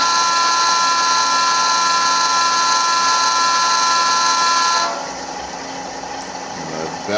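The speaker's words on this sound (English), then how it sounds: "So here's the horn." An ESU LokSound sound decoder in an Athearn Genesis SD70ACe model locomotive sounds a loud, steady multi-tone diesel horn for about five seconds, then cuts off into a quieter hum.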